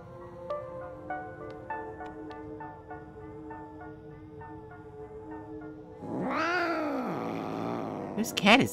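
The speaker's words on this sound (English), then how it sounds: "Whose cat is this? It has a cursed face." In a horror video game, a cat gives one drawn-out, wavering meow at close range. A series of tonal game sounds comes before it, and someone speaks around it.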